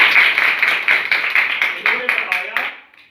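A group of children claps in a classroom, a quick run of sharp, slightly uneven claps in rhythmic bursts that gradually thin out and fade toward the end.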